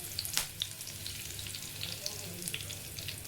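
Fennel seeds and curry leaves sizzle in hot oil in a pan for a squid fry, giving a soft, steady frying hiss with scattered crackles and pops, faint and close.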